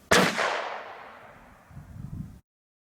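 A single sharp gunshot from an Aguila Interceptor round fired at a car door cracks out loudly and rings away over about two seconds, with a faint low rumble near the end.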